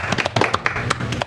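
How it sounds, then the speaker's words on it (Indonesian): An audience at an Indonesian afternoon book discussion claps in a brief, close, uneven burst of sharp hand claps. "Oke, tepuk tangan lagi untuk Aura."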